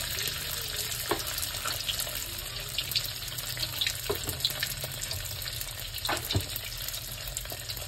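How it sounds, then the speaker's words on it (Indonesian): Dim sum sizzles and crackles steadily in hot oil in a frying pan, a dense continuous hiss with occasional sharper pops, heard close and alone without talk. "ini Mami sekarang lagi goreng dimsum yang digoreng"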